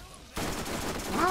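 Rapid gunfire from Borderlands breaks in suddenly after a short lull, holding as a loud, continuous volley of shots with a faint voice briefly audible near the end.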